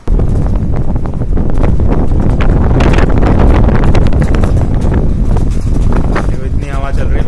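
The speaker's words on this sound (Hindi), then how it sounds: "इतनी हवा चल रही है, मैं खड़ा भी नहीं रह पा रहा" Strong cyclone wind roars continuously into the microphone during a storm in Mumbai, a loud, buffeting rumble that covers the whole stretch.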